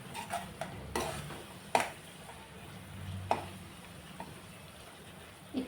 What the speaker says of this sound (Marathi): मी इथे थोडासा कांदा लसूण मसाला वापरते, तो पण छान भाजून घेऊया